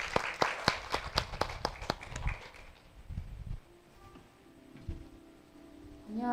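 A church congregation at Sunday worship claps in a quick, even rhythm to welcome a testimony speaker. About a dozen sharp claps ring out over two seconds, followed by sparse, softer room sounds.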